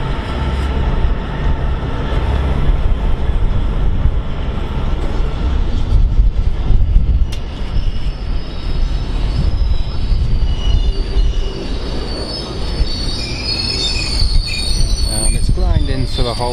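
A Class 66 freight locomotive, 66090, hauling a Maritime intermodal train brakes to a halt at a platform, loud continuous wheel squeal and rumble of wagons filling the whole stretch.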